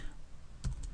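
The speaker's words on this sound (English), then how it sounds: "I'm going to type in Monday" Keys on a computer keyboard tapped in a brief cluster of a few quick clicks, moderately close and fairly quiet, with no talking.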